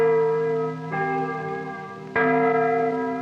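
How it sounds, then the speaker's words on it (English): Liberty Bells ring across Illinois on the Fourth of July. A resonant bell is struck twice, about a second apart, and each sustained ringing tone layers over the previous one's decay. "The simultaneous ringing of Liberty Bells in Illinois and other states on the 4th of July."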